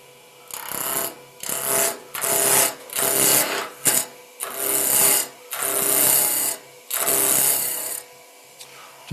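Spindle roughing gouge cutting wood on a lathe spinning at 1500 rpm, giving repeated loud hissing, rasping cuts in bursts of about a second with brief pauses between, close up and alone.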